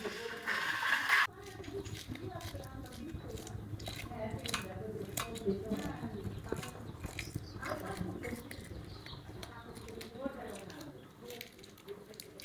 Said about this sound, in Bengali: এই যে আগে মাছের আঁশগুলো তুলে নিই